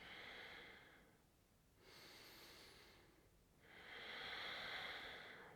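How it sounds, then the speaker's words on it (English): Slow, deep breaths during a gentle beginner yoga class, a long airy inhale or exhale followed by a pause, then another, and a third broad breath, close and fairly soft with no talking. "3 more deep breaths"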